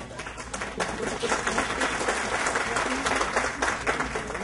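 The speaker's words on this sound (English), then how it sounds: "You can clap some more." An audience at a talk on student retention and success claps in sustained, dense applause, a steady crackle of many hands that carries on without a break.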